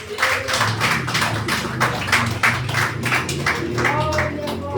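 A church congregation claps in steady rhythmic unison during a healing and deliverance service, the claps loud and close, with music or voices underneath.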